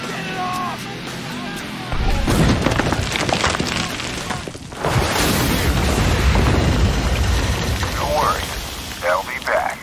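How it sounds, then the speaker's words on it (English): A sticky grenade going off in the video game Spec Ops: The Line, a heavy, loud boom with rumbling debris that swells and lingers for several seconds, mixed with battle noise and brief voices. "Sticky grenade out!"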